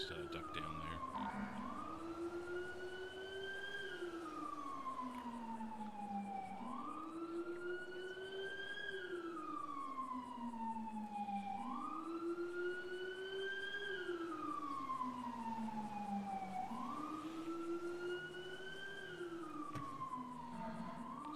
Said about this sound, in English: Sirens again.